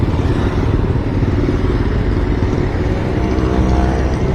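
Dense road traffic waits at a signal in India, heard from a motorcycle: a loud, steady rumble of idling and passing engines that surrounds the rider without a break.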